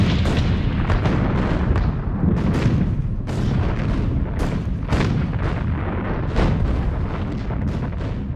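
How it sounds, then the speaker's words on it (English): Massed cannon fire in a Gettysburg barrage, a loud, rapid succession of heavy booms and blasts overlapping one another in an irregular rhythm, with no speech over them. "It began at 1 o'clock with a cannon barrage. 150 cannons, all aimed at Cemetery Ridge."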